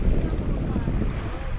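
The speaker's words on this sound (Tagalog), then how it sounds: "nang kami ay tamaan ng isang malakas na hampas ng alon" A strong wave crashes against a boat in the Surigao Strait, heard as a loud, broad wash of water and rushing wind noise that fills the moment without clear talk.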